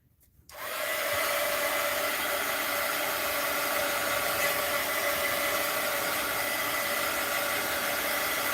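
A hair dryer switches on after a short pause and blows continuously and loudly with a steady whirring hiss while an art journal page is dried, with no talking.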